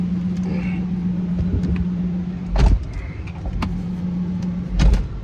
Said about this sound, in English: as you can hear the car running